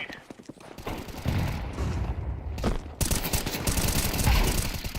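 Bursts of gunfire in the video game Counter-Strike 2, loud rapid shots clustered in rattling volleys with short gaps, close and dense.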